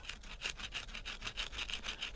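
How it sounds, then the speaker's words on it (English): A wooden bow drill spindle is ground against a rock at a campsite, a steady back-and-forth rasping in regular strokes, close and moderately loud with no talk. "we've got a rock here, trying to get our spindle worked out for a bow drill"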